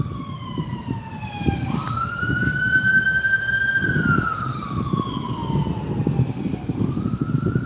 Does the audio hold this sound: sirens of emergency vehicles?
yes